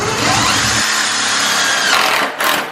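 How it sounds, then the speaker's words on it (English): A loud, continuous power-drill whine grinds steadily, close up, as it drills into a car body during a widebody kit install, its pitch shifting briefly near the end; no talking. "I'm really just about to drill into my car"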